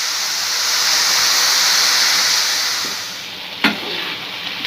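Spring onion and potato sabzi sizzles and fries steadily in a pan, a loud, even hiss close by, with a brief clank of a utensil near the end.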